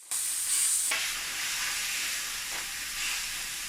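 Winter melon stir-fried in a wok: a loud, steady hiss of sizzling steam starts abruptly and holds, with a couple of brief tossing scrapes, close and without speech.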